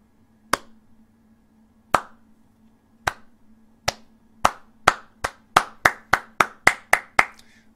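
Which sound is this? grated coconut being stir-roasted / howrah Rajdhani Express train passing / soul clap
soul clap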